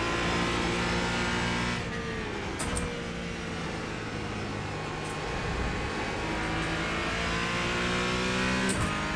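A Porsche 718 Cayman GT4 in iRacing drones steadily at high revs, its engine note shifting with gear changes and brief lifts, loud and continuous with no talking.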